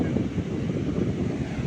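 Sea waves breaking on a beach where a sand fort has been built, a steady broadband roar mixed with wind buffeting the microphone, continuous and fairly loud.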